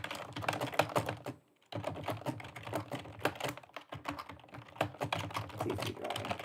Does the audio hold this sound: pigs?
no